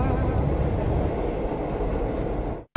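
A moving train gives a loud, steady rumbling roar heard from on board for a few seconds before it cuts off abruptly.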